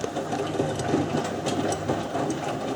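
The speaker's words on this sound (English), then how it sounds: "So the Miele's doing high dramatic tumbles." Miele W562 washing machine drum tumbling a half load of white cotton, a steady rumbling churn with soft repeated thuds of laundry dropping, continuous and close with no voices.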